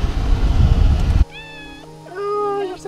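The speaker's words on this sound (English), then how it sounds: "We found a cat." A loud burst of noise cuts off, then a cat gives two clear, high meows close by, the second longer and more drawn out.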